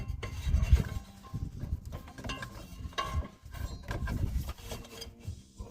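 A new V-belt on an 1987 Oldsmobile Cutlass Supreme 307 is fed behind the fan blades as the engine fan is turned by hand, giving close, uneven rubbing and rasping scrapes with soft mechanical clicks, no talking.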